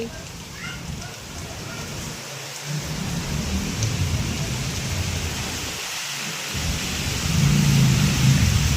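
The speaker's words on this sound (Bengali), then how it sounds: "বাপরে কত বৃষ্টি।" Heavy rain pours down in a steady, dense roar while thunder rumbles low underneath, the downpour swelling louder toward the end.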